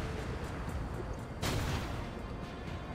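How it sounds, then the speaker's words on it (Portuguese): Loud, dense gunfire from shooting enemies in Resident Evil 5 fills the whole stretch as a continuous roar, with one sharper blast standing out midway. "é só ficar atirando um pouquinho"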